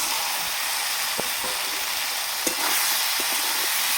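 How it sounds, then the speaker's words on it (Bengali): Fried potatoes and soybean being stirred into cooked masala in a pan, a continuous soft sizzling hiss with a few light scrapes and taps of the spoon, no speech. "এটা ভালোভাবে মিশিয়ে নেব।"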